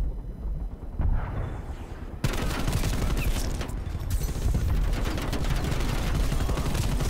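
Sustained AK-74U automatic fire in Black Ops Cold War, a competitive match, starting as a quieter burst and then turning into dense, loud continuous gunfire with overlapping shots and explosions, no talk.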